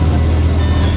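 A Lamborghini Gallardo fitted with an Avior exhaust holds a loud, steady low engine drone, close and continuous for about a second.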